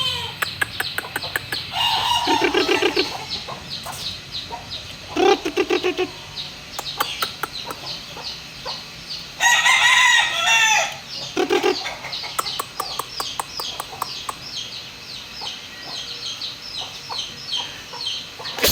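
Chickens and chicks cluck and chirp close by in a small backyard flock, with repeated bursts of busier fowl calls and a rooster-like crow rising over steady peeping; no one talks.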